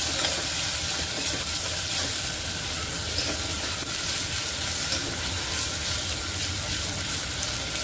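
Spice masala with about two spoons of red chili powder roasting in a pan for methi khichdi gives off a steady, even sizzle and crackle that runs the whole time, with no voices.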